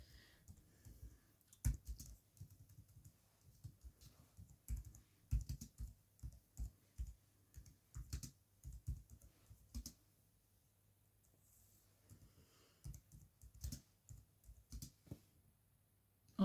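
Keys clacking on a computer keyboard in a cold room, in uneven bursts of quick taps with short pauses, close and fairly quiet, with no one talking.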